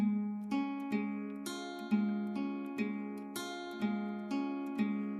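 An acoustic guitar plays a steady picked pattern of single notes, roughly two per second, each ringing brightly over a sustained low root.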